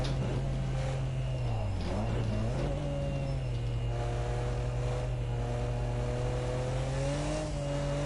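Nissan Skyline R34 GT-R SMS-R engine revving loudly and continuously in a racing video game lap of the Nürburgring Nordschleife, with pitch rising and dipping through gear changes.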